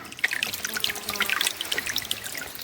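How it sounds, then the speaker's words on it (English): A clear mountain stream flows through forest in Sri Lanka, a steady close trickling and bubbling with bright splashes throughout, no voices. "We stopped beside a crystal clear stream to refill our water bottles with fresh mountain water"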